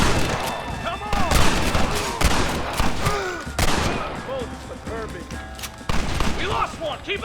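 Dense, sustained gunfire from a shootout in Red Dead Redemption: overlapping shots crackle loudly and continuously at close range, with shouting voices mixed through the barrage.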